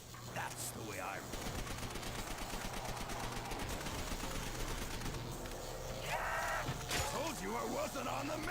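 An MP 40 submachine gun fires in Call of Duty Zombies in rapid bursts of gunfire over a dense, continuous game soundscape with creature noises and a low steady hum.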